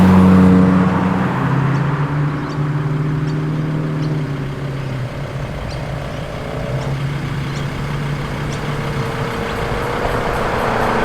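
A blue Ford Mustang fastback arriving at a car show, its engine rumbling nearby at low speed, with a steady throaty drone that swells slightly as it rolls past.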